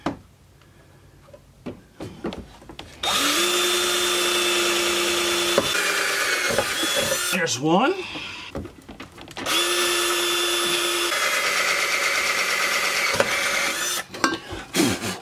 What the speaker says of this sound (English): And let's drill two holes.